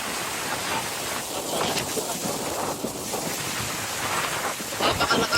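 Heavy rain and flooding in Batangas: a dense, continuous roar of rainfall and rushing water with gusty wind noise, loud and steady throughout.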